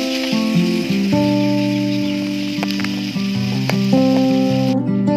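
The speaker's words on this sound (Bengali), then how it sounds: "আমি এখানে নাড়াচাড়া করার পরে এটাকে নামিয়ে নেব।" A vegetable dish sizzles in a pan while being stirred. Strong tonal music plays over a constant frying hiss, and scattered faint clicks come from the spoon.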